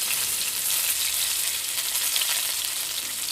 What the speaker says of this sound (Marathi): आता टोमॅटो घाला